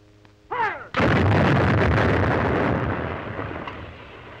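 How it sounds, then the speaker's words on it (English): An artillery gun fires once during a recoil-length check, a huge close blast that rolls on as a long, loud reverberating rumble fading slowly over several seconds. "After the gun is fired,"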